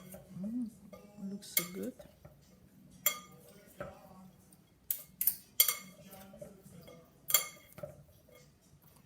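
Utensils toss panzanella bread salad in a bowl, producing a few scattered clinks and scrapes against the dish, close by but fairly quiet, while a person speaks briefly in between.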